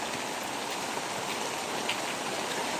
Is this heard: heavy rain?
yes